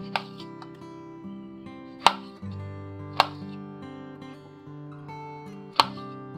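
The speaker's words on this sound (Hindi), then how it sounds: "नेक्स्ट इसके मैं मोटे मोटे टुकड़े कट करूंगी" Knife chopping beetroot into thick pieces on a board: three sharp, separate chops spaced a second or two apart, heard over steady background music.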